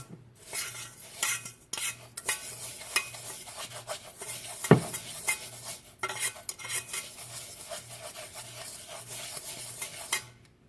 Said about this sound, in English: You just want to make sure you get all that powdery cocoa powder mixed in there.